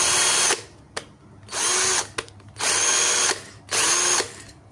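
An XTITAN 21V brushed 13mm cordless drill runs in four loud, steady whirring bursts of about a second each. Short clicks and pauses separate the bursts as the reversing and speed controls change, and no one speaks.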